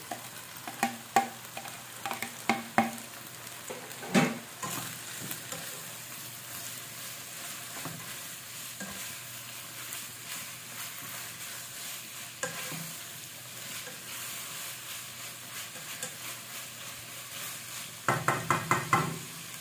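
Small chicken pieces fry and sizzle in a pan while a utensil stirs and knocks against it in bursts, with busier clattering stretches at the start and end over a steady close sizzle.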